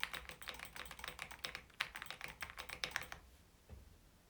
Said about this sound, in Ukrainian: Ось до прикладу просто звук клавіатури та миші разом для порівняння.